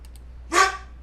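A single short, loud dog bark close by, standing alone against a quiet background.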